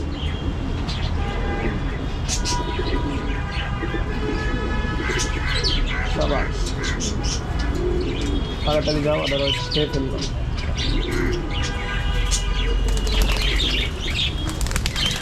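Pigeons coo and chirp while their wings flap and clatter as they leave the coop, a steady busy flutter throughout, with someone talking over the birds.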